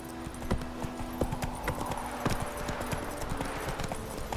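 Roach, Geralt's horse in The Witcher 3, galloping with steady rhythmic hoofbeats clopping over a constant bed of ambient game noise, with no speech.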